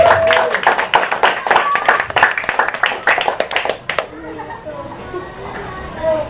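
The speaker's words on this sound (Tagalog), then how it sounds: "Ang hina ng palakpak sa Panginoon." Congregation clapping in a church during a Holy Week healing service, a dense burst of many hands that runs for about four seconds and then cuts off, leaving quiet room tone with faint voices.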